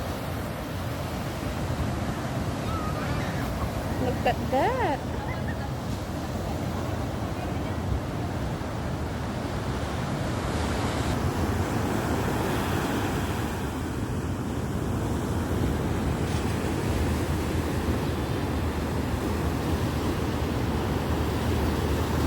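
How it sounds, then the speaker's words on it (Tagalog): Heavy ocean surf with high waves at a La Union beach rumbles as a steady, loud wash with wind noise across the whole stretch. A voice speaks briefly near the start. "OMG, ang taas ng alon."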